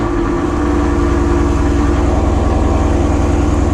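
Steady, loud engine rumble from a 2019 Ford Mustang GT, a deep continuous low drone with a fine pulsing texture, holding even throughout with no speech.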